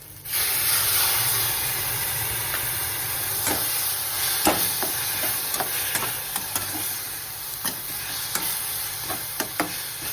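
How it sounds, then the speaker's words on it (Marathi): Buttermilk poured into a hot pan of tempered vermicelli sets off a sudden loud hiss and steamy sizzle that keeps bubbling, broken by scattered soft clinks and scrapes of stirring. "आणि आता याच्यामध्ये ना मी थोडं ताक घालते."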